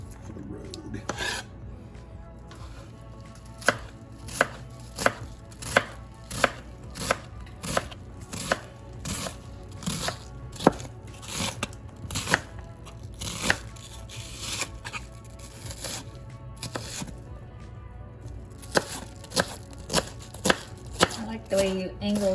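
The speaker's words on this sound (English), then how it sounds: "I like the way you angled your onion there to not leave the big chops" A knife chops onion on a cutting board for a meat lasagna: steady, close, crisp chops in a fairly even rhythm, with faint kitchen clatter behind.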